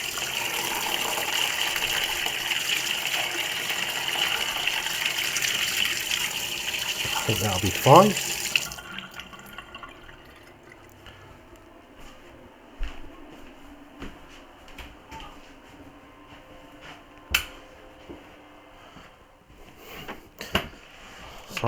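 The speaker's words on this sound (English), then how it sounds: "that's running water you can hear now." Water runs from a tap in a hobby room for about the first eight seconds as a steady broadband rush, then cuts off, leaving quiet room tone with scattered small knocks and clicks while someone speaks briefly.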